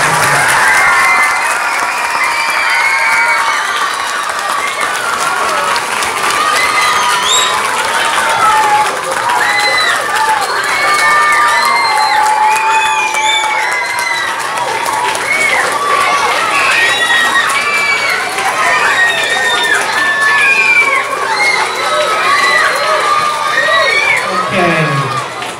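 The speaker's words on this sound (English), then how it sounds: "let's give everyone a big round of applause" A school audience at a spelling bee bursts into sustained applause mixed with loud cheering, children's shouts and whoops, a dense, close crowd roar that stays strong for around twenty-five seconds.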